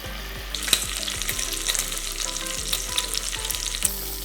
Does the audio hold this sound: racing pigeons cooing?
no